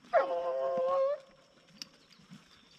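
A dog in a rocky canyon lets out one drawn-out, wavering howl lasting about a second, fairly close and clear, followed by quiet rustling and faint distant noises.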